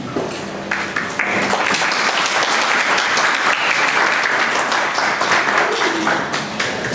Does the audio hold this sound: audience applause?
yes